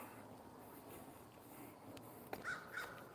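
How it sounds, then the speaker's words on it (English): A crow outdoors in rural New Brunswick gives two short caws close together near the end, faint and somewhat distant over a low outdoor background with a single sharp click just before. "I am stalking this crow."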